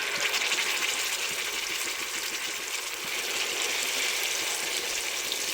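Tempering seeds and dried red chillies fry in hot oil while making tomato nilava pachadi, giving a steady, even hiss of sizzling throughout.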